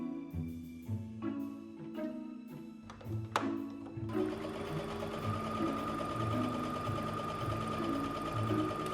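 A sewing machine stitches a cocktail dress in uneven bursts, each run a rapid mechanical whir, first in short starts and then settling into one longer steady hum, up close and alone.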